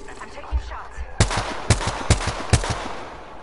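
Gunfire in a video game shooter, four or five loud sharp shots at a steady, spaced rhythm, with faint talk underneath.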